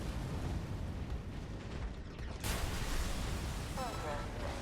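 Explosions in the video game Armored Core VI Fires of Rubicon, dense booming blasts and rumbling over steady battle noise, with a sharper burst midway and a voice speaking over the action.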